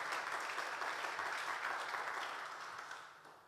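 Congregation applauding during a church worship service, a steady wash of many hands clapping that holds evenly and then slowly fades toward the end, with no talk over it.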